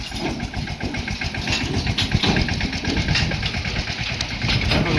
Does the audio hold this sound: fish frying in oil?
no